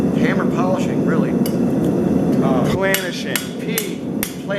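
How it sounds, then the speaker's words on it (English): Hammer planishing an H-13 tool steel knife blade cold, a series of sharp ringing metallic strikes in quick succession over a loud background roar, with talking partly over it. "When you hammer on it really cold like that, there's no more color in it. That's what you call planishing."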